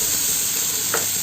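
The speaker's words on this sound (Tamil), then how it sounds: "ஆயில் ஹீட் ஆயிடுச்சு. ஆனியன் சேர்த்துக்கலாம்." Onion hits hot oil for a vegetable sandwich filling and gives a loud, steady sizzle with a brief soft clink near the end. There is no talk.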